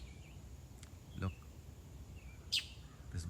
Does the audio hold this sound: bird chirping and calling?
yes